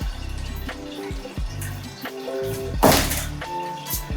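Cold brew coffee drains out of gallon containers through a tube, giving intermittent gurgles and glugs of liquid with a brief louder rushing splash partway through, heard close and without speech.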